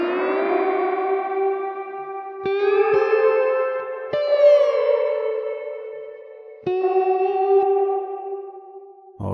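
Tones fed through the Magma Springs spring reverb plugin, sustained pitched notes changing in stepped jumps, each trailing a washy, echoing tail with a slight metallic shimmer, no voices present.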